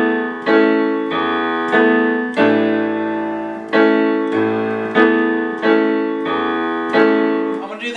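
Piano played with both hands together, octaves in the left hand, sounding as a steady rhythmic series of full chords struck about every half second to second, each ringing and decaying, close and loud with no speech.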